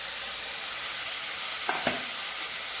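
A masala of tomato, ginger, two green chillies and cumin powder frying in a pan, a dense continuous sizzle close by with two faint knocks of a utensil partway through.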